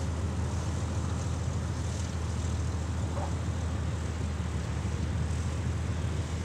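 A P-40 Warhawk propeller fighter at an airshow gives a steady, loud, unbroken engine drone with a broad rumbling low end, holding even throughout as the plane taxis onto the runway.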